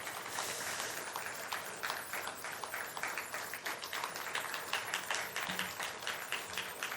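During a Sunday worship service, a church congregation applauds, producing quiet, scattered claps that build into a steady patter across the room.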